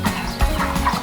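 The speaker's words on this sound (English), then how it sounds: "chickens." Farm chickens clucking in one brief, close burst of throaty calls lasting about a second.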